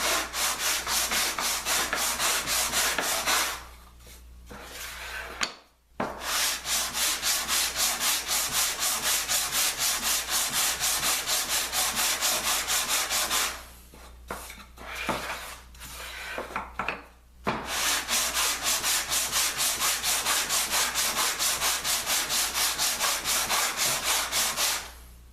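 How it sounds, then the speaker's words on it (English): Wood is sanded by hand with 100 grit paper on a sanding block in long, continuous rapid scratchy strokes, loud and close, broken by a few brief pauses. "this is some 100 grit paper I'm using with our very super cool tool sanding block"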